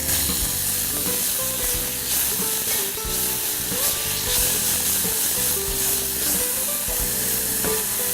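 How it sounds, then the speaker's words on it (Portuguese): Broccoli fries steadily in melted butter in a hot pan, a continuous dense sizzle with faint crackles and occasional stirring, close and even throughout. "Vou aquecer a panela, vou colocar o brócolis."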